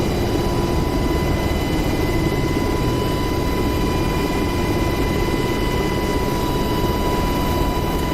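An AH-64 Apache helicopter in the DCS World flight simulator gives a loud, constant turbine whine with a steady rotor rumble underneath, unbroken for the whole stretch with no talk.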